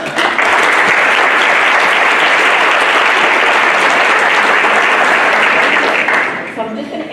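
An audience at a school event applauds students, with sustained loud clapping from a large crowd that lasts several seconds and fades at the end, while a voice speaks faintly underneath.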